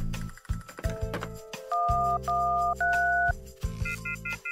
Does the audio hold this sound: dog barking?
no